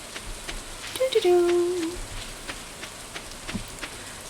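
Steady rain patters throughout a rainy day in Stardew Valley, a soft even hiss with faint drips, while a voice briefly hums a short tune over it.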